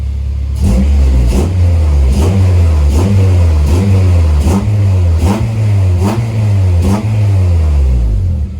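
A K-swapped CD5 car engine revs repeatedly in loud, rhythmic surges, heard up close from inside the cabin, each rise and fall about a second apart.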